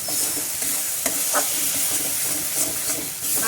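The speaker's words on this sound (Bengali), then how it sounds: "আমি পেঁয়াজটাকে আমি ভালো করে ভেজে নিলাম আগে" Onions with mustard sizzle steadily in a frying pan, a continuous close hiss broken by a few soft scraping stirs, with no talking.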